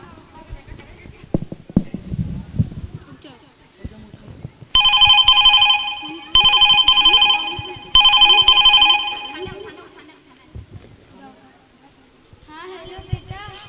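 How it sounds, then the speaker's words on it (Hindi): A phone rings in three loud, evenly spaced bursts of bright electronic tone as a mother calls her son, with brief speech and quieter sounds between rings and before them. "मैं अभी अपने बेटे को फोन करती हूँ"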